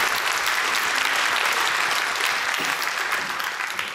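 Loud, dense studio audience applause on the Russian-language quiz show 'Who Wants to Be a Millionaire', a continuous wash of clapping that stays full for the whole stretch and eases slightly at the end.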